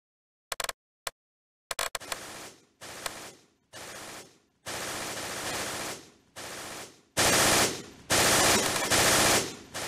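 Machine gun fire in the Close Combat war video game: repeated loud bursts of automatic fire, some short and some sustained, separated by brief gaps, close and dominant with no talk.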